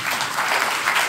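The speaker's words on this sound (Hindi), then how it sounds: "एक बार जोरदार ताली" A seated audience at a Hindi spiritual talk gives a brief, vigorous burst of clapping, dense and even, with no voices over it.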